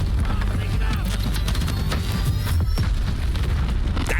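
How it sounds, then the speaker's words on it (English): A building explodes in the video game Battlefield 6, giving a loud, sustained rumbling boom that fills the full 4 seconds with dense, steady roaring debris noise and no distinct breaks. "the pressure wave just comes up from the building in that explosion"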